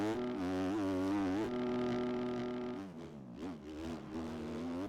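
Husky FC 250 motocross bike engine in the MX Bikes video game, revving in a loud, buzzing drone that climbs and falls in pitch through gear changes, heard alone and close.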